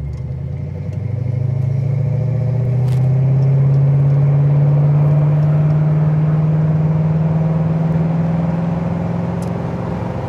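A 1966 Ford Fairlane S-code 390 GTA big-block convertible cruises along with a steady, low engine rumble that rises slightly as it picks up speed, with faint clatter and no talking.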